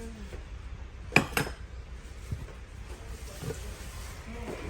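A set of matching cookware, all one colour, being handled, with two sharp clinks of dishes and pots knocking together near the start, then quieter scattered taps and rustling over a low background hum.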